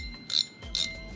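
Drag on a navy blue and gold tarpon fishing reel gives a ding like a bike bell: two bright, ringing metallic pings in quick succession, close and clear.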